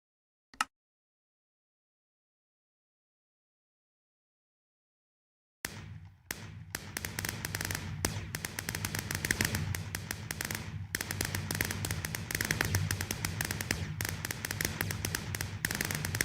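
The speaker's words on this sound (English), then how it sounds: "Think it is time to set off the fireworks." Minecraft fireworks in the Sky Factory 4 modpack: one sharp pop, several seconds of silence, then a long, steady run of crackling bursts and thumps going off one after another.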